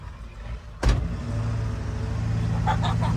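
A van engine in a garage video game catches with a sharp thump after a quiet moment, then settles into a steady low idle hum, with faint higher clicks near the end.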